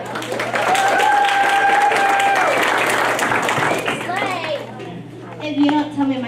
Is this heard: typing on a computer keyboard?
no